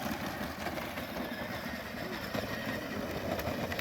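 A Power Wheels ride-on toy car runs on a homebrew 18 V lithium-ion pack made from a C-Max hybrid battery, giving a steady, rough motor whir that holds without a break.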